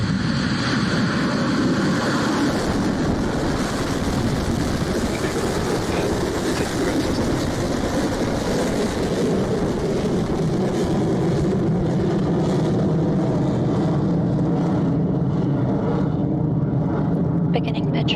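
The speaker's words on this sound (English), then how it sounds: "we have left the pad and we're on our way to space" Rocket Lab rocket roaring just after liftoff, a continuous loud rumbling roar that slowly fades and thins over time, with a voice talking over it.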